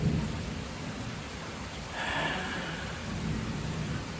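Steady rainfall during a storm, with a faint thunderclap rumbling up around the middle, soft and distant beneath the constant hiss of rain.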